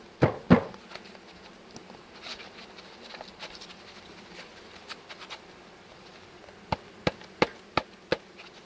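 Honey bees being tapped out of a package give a faint, continuous buzzing hum, with a couple of loud knocks at the start and a quick series of sharp taps near the end.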